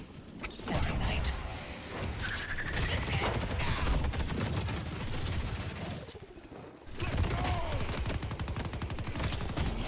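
Haze's weapon fires bursts of gunfire in the video game Deadlock, a rapid volley of close shots and clattering mechanisms that briefly pauses and then resumes.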